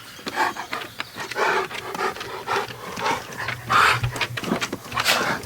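A dog pants rapidly and steadily close by, short breathy huffs repeating throughout with a few faint whimpery sounds.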